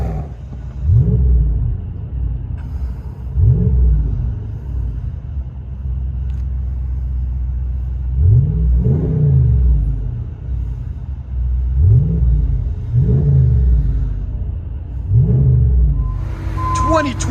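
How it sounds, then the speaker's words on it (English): A 2022 Ram Power Wagon with a 6.4L Hemi V8 and a muffler-deleted exhaust revs in repeated deep, loud blips of rumbling roar over a steady idle, about eight pulses spread across the clip. "Ram POWERWAGON muffler delete."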